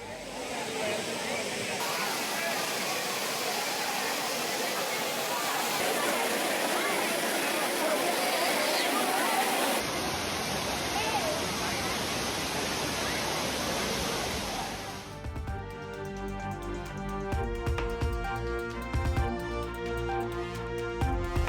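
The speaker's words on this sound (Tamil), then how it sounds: "மெயினருவி, ஐந்தருவி, பழைய குற்றால அருவிகளில் ஆனந்த குளியல்." Courtallam waterfalls crowded with bathing tourists, a dense continuous rush of falling water for about fifteen seconds before giving way to music.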